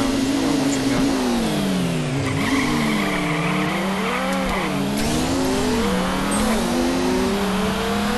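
Race car in the Nitro Nation 6 game launching and accelerating hard, its engine drone rising and dipping through manually shifted gears over steady, loud tire and road noise, with no talk.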